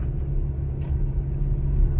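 A car creeps slowly along snowy roads during a New York winter snowstorm in February 2019, giving a steady, close, low rumble of engine and tires with no talking.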